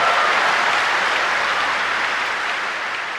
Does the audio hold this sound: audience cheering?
yes